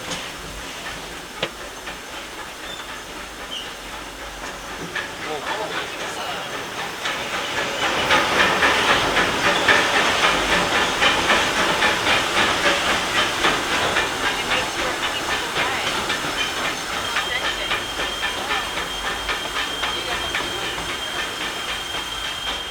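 Hissing steam from the Disneyland Railroad steam train at a Disneyland theme park station, a broad steady rush that swells louder after a few seconds and holds for the rest, with faint rail clatter beneath and no talk.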